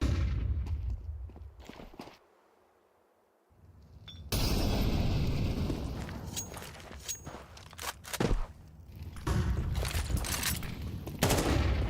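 Gunfire and grenade blasts in a professional Counter-Strike match between MongolZ and paiN, with repeated sharp shots and bursts over a busy background, broken by a brief quiet lull.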